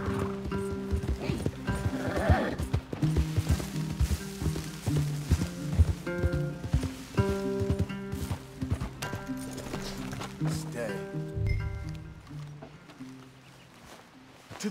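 Horses in the Wild West video game Red Dead Redemption 2 clip-clop steadily at close range over a background of game music, with faint voices here and there.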